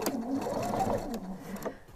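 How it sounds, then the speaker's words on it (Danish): Sewing machine running steadily, stitching a cushion seam with a one-centimetre seam allowance, a continuous close mechanical whir that eases off near the end. "Så jeg starter hernede i min søm og syr med en centimeter sømrum."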